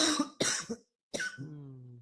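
A woman coughs twice in quick succession, close and fairly loud, followed after a short pause by a brief voiced throat sound that trails into a low hum.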